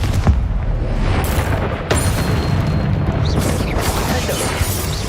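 Confringo, a fire spell in the game Hogwarts Legacy, bursts as a loud, rumbling boom with crackling debris, followed by further sustained blasts and roaring noise.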